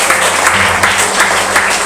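A church congregation claps loudly and steadily, dense applause filling the room throughout a short burst.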